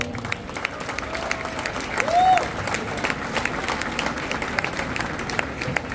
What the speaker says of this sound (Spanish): Otro aplauso para ellos, por favor.